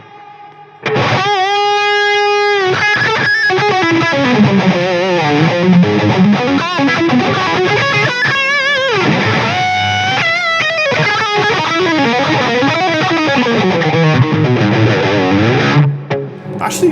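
Heavily overdriven electric guitar through a Precision Drive overdrive pedal plays loud, sustained chords and bending lead notes, continuous and upfront, cutting off abruptly near the end.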